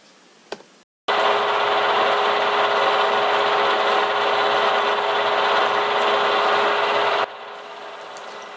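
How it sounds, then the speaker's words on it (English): A Pollard pillar drill, bolted down on a concreted base, bores a 3/8 in (10 mm) pilot hole. After a brief noise, a loud steady grinding runs unbroken for about six seconds, then drops to a quieter hum. "The drill was then tested out to see how it performed. This shows a 3/8 10mm pilot hole"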